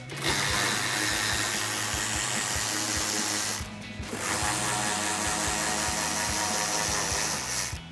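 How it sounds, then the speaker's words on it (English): Hand ratchet clicking in quick repeated strokes while removing wheel-well screws on a RAM 1500, with a short pause midway and close, loud mechanical ticking. "we're going to remove this upper screw as well as our middle one"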